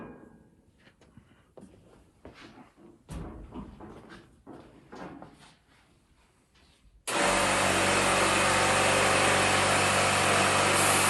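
An air compressor switches on and pumps pressure back up into its air tank, a loud, steady, broadband motor-and-pump drone that starts abruptly partway through after a stretch of quieter handling noises and faint talk.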